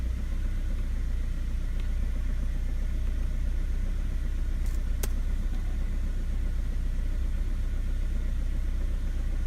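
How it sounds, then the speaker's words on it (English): A turbo-converted Ford Transit Connect van drives along with a steady, droning engine hum heard from inside the cab, with no talking and only a brief faint click partway through. "All I'm going to do now is drive down to the other unit."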